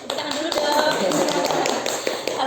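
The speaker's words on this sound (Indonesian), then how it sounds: "Tepuk tangan dulu dong." A small group of people clap their hands in a primary school setting, a short burst of close, quick taps over murmuring voices.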